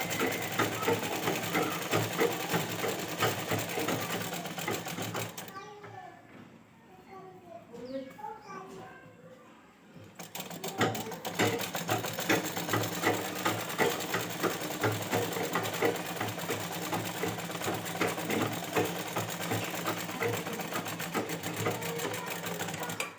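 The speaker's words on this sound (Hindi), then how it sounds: "फिर इसकी कली की सिलाई कर देंगे।" Close, rapid stitching from a sewing machine joins kali panels of a ghaghra, running almost continuously with one pause of a few seconds where faint household sounds and a voice come through.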